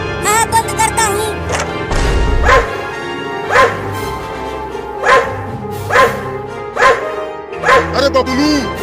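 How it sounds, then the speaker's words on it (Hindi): Several dogs bark and yip in repeated loud bursts, close by, mixed with high-pitched speech from cartoon-like voices over the top. "तो भौंकना बंद करो"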